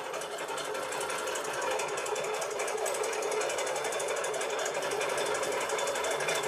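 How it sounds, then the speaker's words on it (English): A domestic sewing machine stitches a quilt at steady speed, a dense continuous whirring buzz held close and even throughout with no talking over it. "and we are quilting. So we can go a little bit faster than that."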